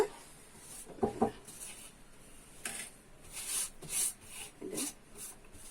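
Sugar adhirasam dough is mixed by hand, giving soft, intermittent rubbing and squishing sounds with a few light taps, faint and close, without speech.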